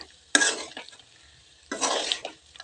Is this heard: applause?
no